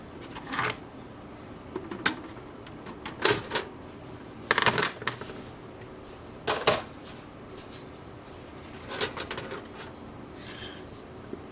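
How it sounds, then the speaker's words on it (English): Convergent NGEN tape module being taken apart, with scattered sharp clicks, clacks and metallic rattles from handling the casing and parts, spaced irregularly over a quiet background. "let's take apart the tape module"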